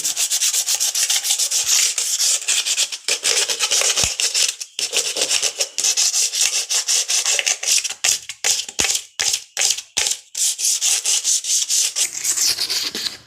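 Sandpaper rubbed by hand over a kitchen electrical switch board, a steady close scratchy rasping in repeated strokes with brief pauses, no voices.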